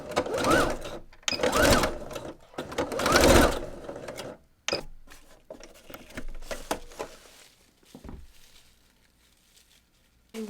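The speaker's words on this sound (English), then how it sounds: "you just sew back and forth or do a zigzag stitch to secure the two ends together" A sewing machine stitches the ends of a sock ruffle together in a few close bursts of fast mechanical whirring, separated by pauses and handling noises.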